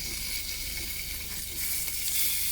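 Bacon sizzles in a RidgeMonkey multi-use frying pan, a steady, close, unbroken hiss of fat crackling that holds at an even loudness throughout.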